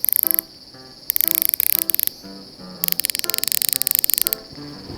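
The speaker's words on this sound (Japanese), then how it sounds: "このスナップオンのラチェットはギア数が100ギアになってます" A Snap-on 100-gear ratchet hand tool makes rapid, very fine clicking in quick bursts, close and crisp, pausing between sweeps of the handle.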